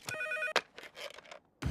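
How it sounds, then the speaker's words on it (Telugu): A telephone rings with a bright electronic tone in a short trill, followed by a few quieter indistinct sounds and a sudden louder burst at the end, moderately faint overall. "ఇదేంటి ఫోన్ రింగ్ సౌండ్ వస్తుంది?"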